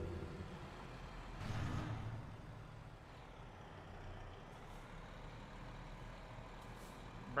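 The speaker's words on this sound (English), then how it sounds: "Ah, air brakes." Truck air brakes in a truck-driving video game release a brief hiss of air over a low, steady engine rumble, followed by a couple of faint high hisses later on.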